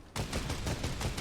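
Rapid gunfire from a video game, several sharp shots in a quick, even rhythm after a brief quiet start, loud and close with no talk over it.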